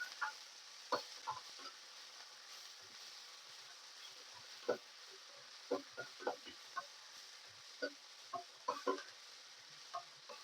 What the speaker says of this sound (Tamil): ரொம்ப காய விடாம நம்ம சிம்மில் வச்சுட்டே வதக்கலாம்